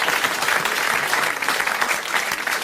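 A studio audience at a 1985 French television show claps in steady, dense applause from start to finish, close and loud, with no voices rising above it.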